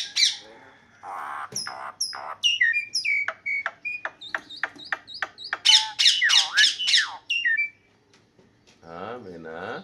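A nesting myna perched over its eggs and chicks gives a lively series of squawks, sharp whistles and rising chirps, loud and close, while a person talks at the start and end.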